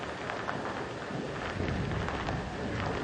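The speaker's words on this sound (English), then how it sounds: "extra moisture now with it raining harder" Steady rain falls on a golf course during a final round of play, a dense, even hiss with scattered drop patter and no voices.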